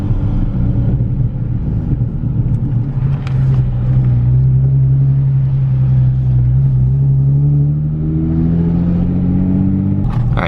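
A Nissan 350Z with a new power steering pump and no fan shroud creeps through a slow full U-turn. Its engine gives a loud, close, steady rumble, with a low whine that rises toward the end.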